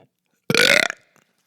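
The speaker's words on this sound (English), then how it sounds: "There's a nice burp for you guys." A single loud, drawn-out burp rumbles for about half a second close to the microphone, alone in an otherwise quiet room.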